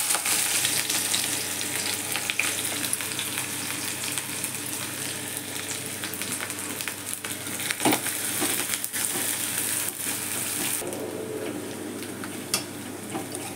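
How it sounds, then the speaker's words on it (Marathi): Onion frying in a pan with cinnamon, cloves and black pepper, a soft continuous sizzle broken by crisp scraping and stirring knocks, fairly quiet and heard alone. "कांदा चांगला ब्राऊन होईपर्यंत भाजायचा,"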